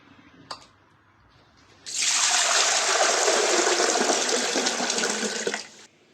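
Water pours steadily for about four seconds in a loud, even rush as potato chips are drained through a colander, then stops abruptly; a brief clink comes first.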